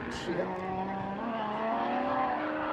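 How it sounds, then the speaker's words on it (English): A six-cylinder drift car at a drift club event revs hard with its tires squealing, the tonal whine of the burning rubber sliding and wavering over a steady engine drone, with talking underneath. "Manipulating that throttle, roasting them tires."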